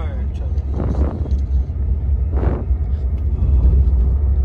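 A car rumbles in during a night of street racing, its low engine drone building steadily toward the end, with brief voices and crowd noise over it.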